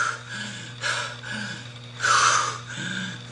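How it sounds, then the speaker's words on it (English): Deep, forceful breaths drawn through the stomach during a Brazilian jiu-jitsu demonstration, several breathy inhales and exhales in a steady rhythm, close to the mic with a low hum underneath. "when you breathe through your stomach, you see how much more I'm breathing?"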